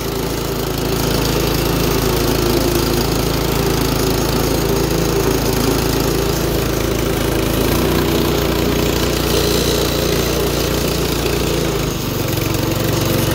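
Predator 212 small engine fitted to an Allis-Chalmers WD tractor, idling close by with a steady, loud, throbbing low putter that holds evenly and drops slightly near the end.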